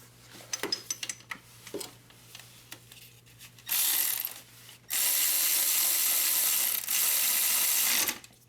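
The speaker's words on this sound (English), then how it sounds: "So now we're gonna tighten these two bolts." Ratchet wrench tightening the power steering pump bolts on a Hyundai Sonata, starting with scattered light clicks and taps, then long steady bursts of rapid ratcheting close to the microphone with a short pause between them.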